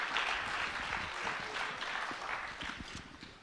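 A conference audience claps for a panel of speakers, a dense sustained round of applause from a crowd that slowly tapers off.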